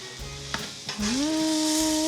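Food cooks on a grill with a soft, steady sizzle, joined by a few scraping, stirring knocks as pieces are moved, and then a sustained tonal hum near the end.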